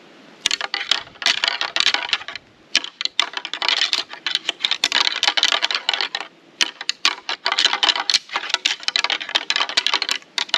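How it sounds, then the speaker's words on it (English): Whitetail deer rattling antlers clack and grind together in irregular bursts of hard clicks and rattles, close and fairly loud, in an outdoor woodland setting during a morning bow hunt. "I'm going to do a little rattling this morning because I've had some small bucks on camera."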